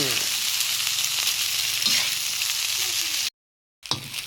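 Rice stir-fried with canned fish sizzles steadily in a hot pan, with scraping stirs throughout, a brief silent gap near the end, then the frying resumes.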